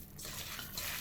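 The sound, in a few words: squeezing chhena cheese, liquid dripping out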